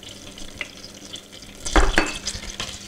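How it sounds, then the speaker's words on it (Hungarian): Tomato paste and ground caraway frying briefly in a pan, a quiet sizzle with scraping stirs and a louder burst of clatter near the middle. "Éppen csak egy fél percig pirítjuk."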